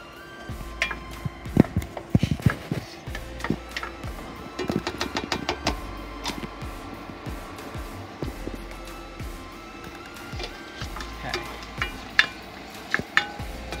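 Onions frying on a barbecue for chorizo burgers, a continuous sizzle broken by clusters of scraping and clattering as they are stirred, close and fairly loud.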